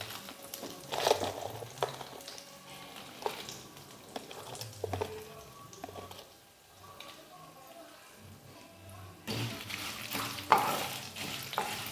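Dried red chillies fry and crackle in a pan for curry leaf karam, a steady close sizzle with stirring scrapes, brief louder bursts near the start and end, and a soft voice talking over it.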